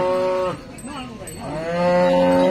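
A cow at a cattle market in Sangola, Maharashtra gives a long, loud, close moo with a rising then sustained tone, standing alone without talk over it.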